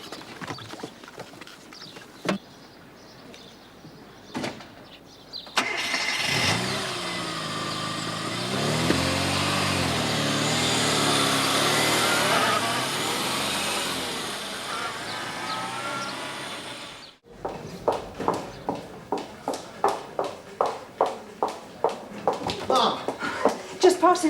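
A car engine starts and pulls away in a late-1980s British police drama scene, a loud sustained rumble of about ten seconds that cuts out sharply, with voices and rhythmic knocks before and after.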